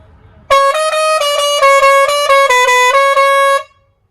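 Pressure horn fitted on an Eicher BS6 truck blares loud and close for about three seconds as a rapid melodic sequence of bright tones, then stops abruptly.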